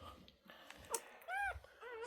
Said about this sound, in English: And these are her babies right here.